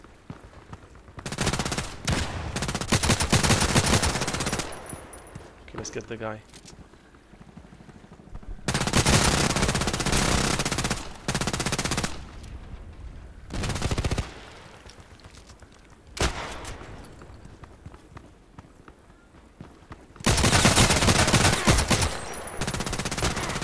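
Full-auto MP7 submachine gun fire in the online shooter Contract Wars, loud repeated bursts separated by short pauses, some long sprays and some clipped, with a brief spoken line between them.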